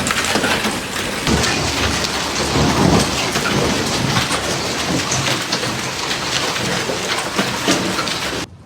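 Heavy rain and hail hammering down in Brescia, Italy, a dense, loud, unbroken roar of pelting with low rumbles rising in the middle, with no voices.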